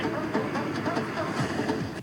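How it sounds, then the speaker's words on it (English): A train runs along rails in an advertisement featuring a runner racing it, heard as a dense, loud rumbling roar with rhythmic clatter and hiss, steady throughout and without talking. "He is racing a train."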